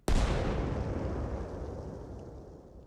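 A single heavy mortar blast in a military simulation game booms loud and close, then rolls away in a long, fading rumble over almost three seconds.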